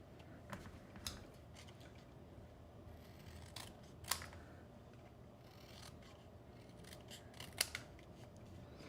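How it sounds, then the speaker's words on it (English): Scissors snipping through paper while making an octagon gift box, a few short crisp cuts spaced apart, close and fairly quiet with no talking. "It's a pretty short distance to cut, so I find just cutting with the scissors works great."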